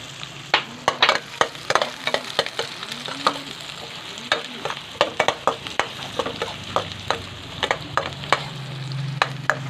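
Garlic and onion sauté in a hot pan, a steady close sizzle punctuated by many sharp clicks and scrapes of a utensil stirring, with no talking.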